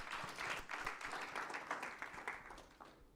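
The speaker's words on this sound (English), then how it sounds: "Let's give them a better round of applause" Audience applause at a fertilizer organization's rebranding and website launch event, a fairly faint, even patter of many hands clapping that tapers slightly toward the end.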